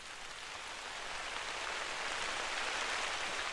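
Steady rain in theHunter: Call of the Wild video game hisses evenly, a soft continuous wash of falling drops that slowly grows a little louder, with no voices.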